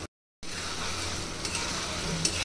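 Washed shingi fish dropped into sizzling cooked-down spice paste in a pan, a brief pause then a steady close frying hiss with a few faint clinks, no talk.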